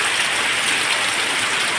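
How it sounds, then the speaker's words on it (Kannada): Steady, dense rain falls without a break around a rural home during a prolonged downpour that has caused flooding, a continuous close hiss with no voices. "ಆದಮೇಲಿಂದ ಶುರು ಆದ ಮಳೆ ಇನ್ನೂ ಕೂಡ ನಿಲ್ಲಿಲ್ಲ"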